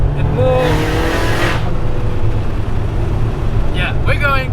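Nissan Silvia S15 Spec R engine pulling hard under acceleration, a loud steady in-cabin drone with rising harmonics that continues throughout, while a voice talks over it in the first seconds.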